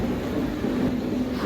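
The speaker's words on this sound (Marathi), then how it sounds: "तर ती बघा आता निघाली आहे ट्रेन।" Vidarbha Express pulling out of a railway station, a loud steady low rumble and rolling hum of the moving train with no voices.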